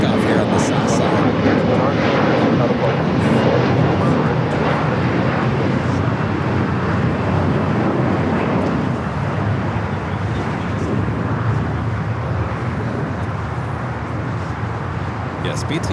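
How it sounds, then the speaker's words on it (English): An Air Canada Boeing 787-8 Dreamliner, Flight 788 to Toronto, takes off from the south side at LAX: a loud, broad, sustained roar holds and slowly fades, with someone talking over it. "Dreamliner will be your next heavy takeoff here on the south side"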